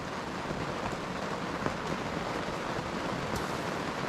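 Steady, heavy rain from Storm Gerrit hisses continuously on a hot tent while camping, a dense even downpour with no voices over it.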